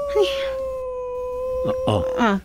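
A dog howls in a long, steady, drawn-out tone, joined near the end by a few short barks or yelps. The sound is fairly close and clear, with no other sounds over it.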